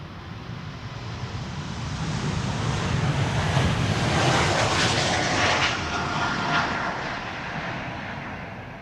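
An Embraer 195-E2 jet airliner departing Amsterdam Schiphol for London Heathrow rumbles and roars, swelling to a loud peak before easing off.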